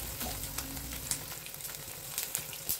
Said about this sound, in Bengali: এরকম করে আমি 5টা ডিম ভেজে নেব।